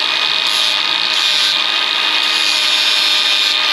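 An angle grinder grinds a steel rock slider tube in a continuous loud, harsh whine with a slight pulsing rhythm, running unbroken throughout with no voices.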